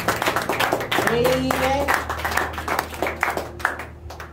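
Congregation clapping after a church prayer, dense hand claps with rhythmic peaks, near and lively, while voices call out over the applause and a sustained musical tone runs beneath.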